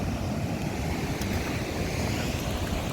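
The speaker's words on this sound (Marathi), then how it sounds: "बघा हैसरपर्यंत लाटा उसळतात. त्या ठिक तर बघा कसली लाटा येतात." Sea waves surge against the shore at Terekhol, a loud continuous roar of churning surf mixed with wind buffeting the microphone, steady throughout without breaks or voices.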